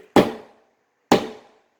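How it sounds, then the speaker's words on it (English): Two sharp hammer blows pound a nail into a drywall surface during a wall repair, each a loud isolated strike about a second apart with a short ringing decay, no voices. "So you take your hammer here, go ahead and pound in,"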